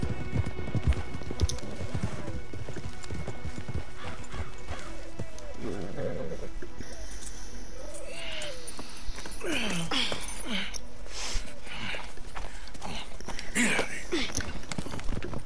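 Horses trotting in the video game Red Dead Redemption 2, with steady rhythmic hoofbeats running throughout under game ambience, with occasional voices and other game sounds layered over them.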